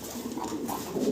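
Pigeons on a farm, including Polish Lynx and King breeds, coo and call continuously and restlessly, filling the short moment with overlapping close, moderately loud calls.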